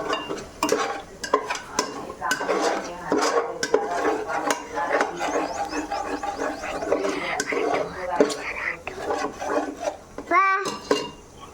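Mutton biryani masala with fenugreek leaves being stirred in a pot, with steady scraping and clattering of a spoon against metal and a light sizzle running throughout, while someone talks over it.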